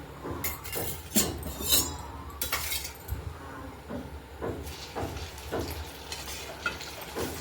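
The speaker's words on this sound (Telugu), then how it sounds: "ఆయిల్ వేడి అయిన తర్వాత అప్పుడు చికెన్ వేసుకున్నాం." Chicken pieces fry in hot oil over a medium flame for a chicken pickle, giving a steady sizzle broken by repeated clinks and scrapes of a utensil against the pan.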